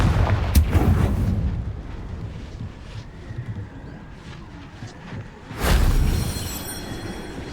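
A Confringo spell explodes in the video game Hogwarts Legacy, a loud booming blast at the start followed by rumbling debris, then a second heavy explosion near the end with no talking.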